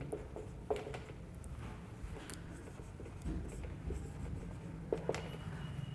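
A pen writes out a differentiation maths sum, making faint, scratchy strokes and small taps over a low room hum. No one speaks.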